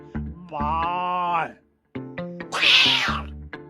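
A human voice imitates a cat with two drawn-out meows, the second higher and more strained, close and clear.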